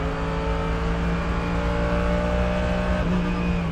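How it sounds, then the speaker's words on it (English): Race cars at full speed at the Nürburgring 24 Hours, cresting a jump after a kerb-hitting curve, engines roaring loud and steady throughout, with a slight pitch shift near the end. "Both cars getting airborne and then carrying huge speed as they come over this crest."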